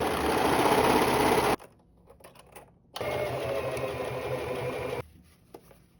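Close by, a sewing machine runs straight stitches along fabric for a reversible bag. Two steady, loud whirring runs are split by a short pause, and a quieter stop follows.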